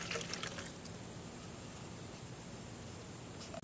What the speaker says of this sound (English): Since I got it in the bottle here, shake it up.